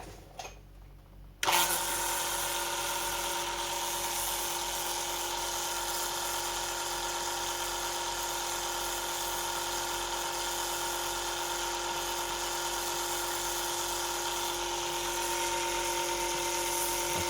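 A pump switches on for a line pressure test on a 4L80e transmission, starting after a brief clatter and then holding a steady, even electric whine and hum for the remaining length, with no talk.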